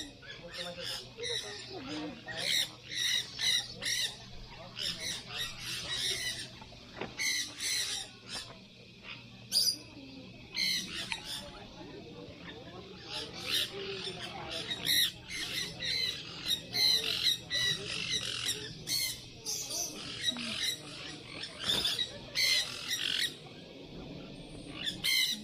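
A bird at a safari park in Cebu gives loud, repeated harsh squawks in irregular bursts throughout, close by, with people's voices mixed in around the calls.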